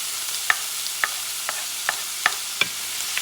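Onions frying in a pan for Puerto Rican spaghetti give a steady soft sizzle, with about seven light scrapes of a spoon stirring at an even pace, close up.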